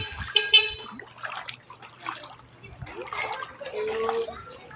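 Flood water rushes and splashes nearby in uneven surges, with honking and a voice breaking in now and then over the watery noise.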